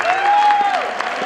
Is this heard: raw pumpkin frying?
no